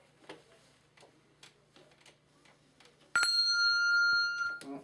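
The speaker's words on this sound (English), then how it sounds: "I like our new bell system." A new bell system rings out with a sudden bright, sustained bell tone lasting over a second, following quiet background chatter and light ticking sounds in the room.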